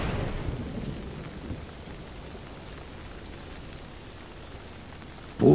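Thunderstorm with steady rain in the game Warcraft III Reforged, a rumble of thunder at the start fading into a continuous hiss of rainfall, with a sudden loud burst at the very end.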